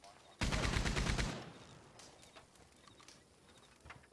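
Gatling gun fire in Red Dead Online, a rapid burst of heavy repeated shots lasting about a second, then trailing off into scattered distant pops and quieter ambience.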